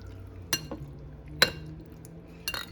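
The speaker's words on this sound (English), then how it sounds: "Now let's go ahead and stir this in." A spoon stirs homemade chili mac in a pot, a few faint clinks of metal against the pot's side separated by quiet pauses.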